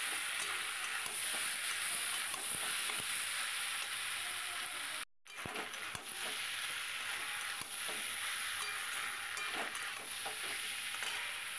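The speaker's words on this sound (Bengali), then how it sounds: "এবার চিকেনগুলো দিয়ে আরেকটু নেড়ে নেব।" Chicken pieces for chilli chicken sizzle steadily as they fry in hot oil, with frequent scraping and clinking as they are stirred in the pan. The sound is close and continuous, with one brief dropout.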